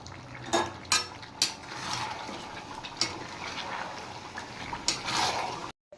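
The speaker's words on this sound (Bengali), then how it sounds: "মাংসটা আমি একটু ভালো করে কষিয়ে নেব" Chicken pieces with salt and garlic are stirred in a pan, a spatula clanking against the metal in sharp, irregular knocks over a faint sizzle, close and fairly quiet, ending in a brief gap.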